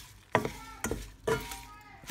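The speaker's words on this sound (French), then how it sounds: "il faut bien remuer pour que ça s'imprègne bien d'huile d'olive" Radish greens stirred in olive oil in a pan, three distinct scraping sweeps of the utensil over a soft sizzle, close and fairly quiet.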